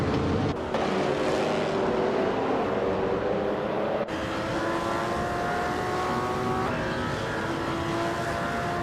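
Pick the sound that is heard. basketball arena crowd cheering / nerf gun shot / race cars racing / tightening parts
race cars racing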